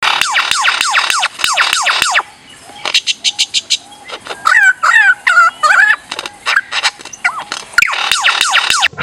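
A lyrebird pours out a loud, varied stream of mimicked calls: rapid descending whistles, siren-like sweeps and chattering phrases, close and clear.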